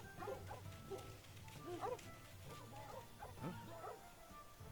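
A dog in the LEGO Pirates of the Caribbean video game barks and yips repeatedly in short bursts over a busy game soundscape, with several quick woofs and a whimpering tone spread across a few seconds.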